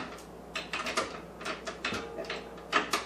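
A spatula scrapes down the sides of a mixing bowl of creamed low-carb pound cake batter, making a quick run of short, scratchy strokes close by.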